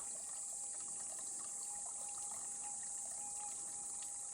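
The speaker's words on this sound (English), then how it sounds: "I'm going through this gorgeous little creek." A small, quiet creek trickles gently and continuously in the distance, a faint soft wash of flowing water with a steady high hiss and no voices.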